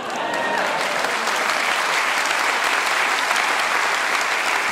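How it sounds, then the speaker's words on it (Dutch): Theatre audience applauding at a comedy show, a loud, full and steady wash of many hands clapping throughout, with faint voices mixed in. "geef hem een dik applaus"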